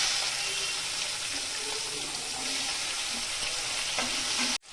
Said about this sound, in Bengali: পেঁয়াজটা আমি একটু লাল করে ভেজে নেব।